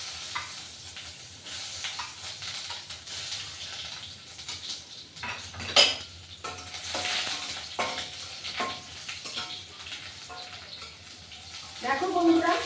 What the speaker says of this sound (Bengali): এই যে পেঁয়াজ কুচিগুলো আমি এর মধ্যে দিয়ে দেবো